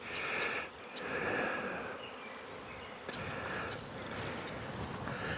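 Honeybees buzz steadily around an apiary, a continuous close drone with shifting pitch as individual bees pass near, and no talk.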